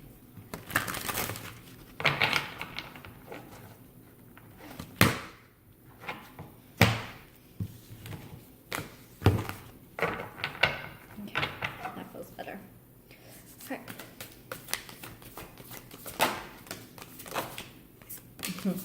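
Tarot cards being handled and shuffled, with sharp riffling snaps and slaps scattered under someone talking.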